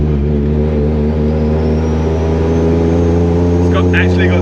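An 80 Series engine with a dropped valve and turbo lag drones loud and close with a steady low hum, its pitch holding high as if revved, and faint tapping sounds near the end.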